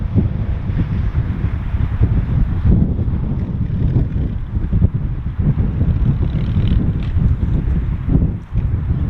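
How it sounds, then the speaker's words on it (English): Strong wind blows outdoors and buffets the microphone with a loud, continuous low rumble and gusty fluctuations throughout, with no voices. "Could do with this wind dropping though"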